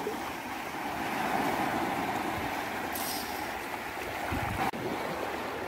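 Ocean surf on a Jeju beach on a rainy day, a steady broad wash of breaking waves and rain close by, with a brief sharp knock near the end.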